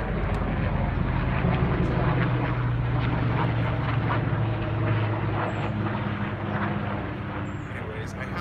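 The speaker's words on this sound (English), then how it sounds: "Excuse the helicopter that's flying overhead." A low, steady helicopter drone rumbles overhead throughout, loud and continuous, with faint higher chirps in the background.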